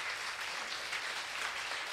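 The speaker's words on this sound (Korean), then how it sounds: "박수 한번 쳐주시고요" A lecture audience claps for the performers after a music segment, a steady wash of many hands filling the room at even loudness throughout.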